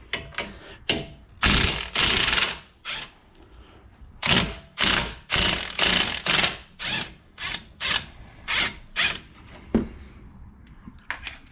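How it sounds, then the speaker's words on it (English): A wrench and socket work loose the bolts on a Jeep Renegade's suspension during a 2-inch lift install. Close, loud bursts of ratcheting repeat in an uneven rhythm, each lasting about half a second, with short pauses between them. "So you're gonna go with a 14 wrench and a 5/8 socket."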